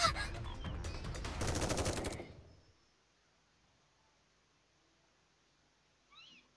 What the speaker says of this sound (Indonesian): Ada suara tembakan dan Eksia pingsan.